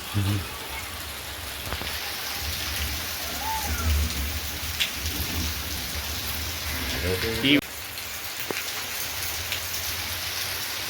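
Steady rain pattering on surfaces outdoors, a continuous moderate wash with faint voices and a few brief knocks in the background.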